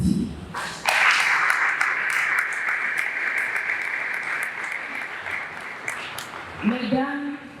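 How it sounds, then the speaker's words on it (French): An audience at a School of Ministry graduation commencement in Haiti bursts into loud, sustained applause that holds steady for several seconds, then fades out as a voice returns at the end. "Je vous demande de les applaudir."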